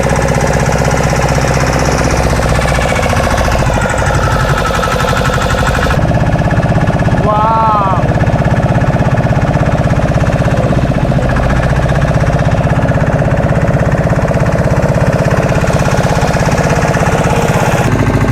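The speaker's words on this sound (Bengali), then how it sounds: "এই যে এটা একটা চালু হলো চাইনা মেশিন এটাই ওই যে পাখাটা ঘুরছে ওটাই জলটাকে লিফ্ট করবে আর নৌকাটা এগোবে" A Chinese-made boat engine runs at the seashore near Talsari, turning a propeller to push the boat forward; a loud, close, relentless chugging drone with rapid knocking pulses continues throughout.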